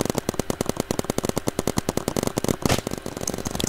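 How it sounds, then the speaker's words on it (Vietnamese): Rapid gunfire from a Roblox paintball shooting game, a dense run of sharp, evenly spaced shots that keeps firing like an automatic weapon for several seconds without pause. "Có người bắn mình hay sao mọi người?"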